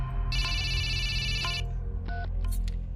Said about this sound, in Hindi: तुम्हारा फोन बज रहा है, उठा लो।